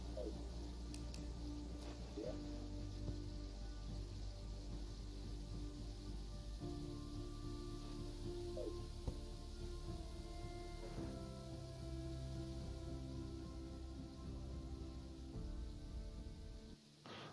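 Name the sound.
rain in a video game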